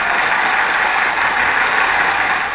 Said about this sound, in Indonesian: mesin digerakkan maju